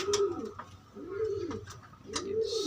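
A blue bar pigeon gives a low, rounded coo three times in a steady rhythm, close and moderately loud, with faint clicks between the calls and no speech.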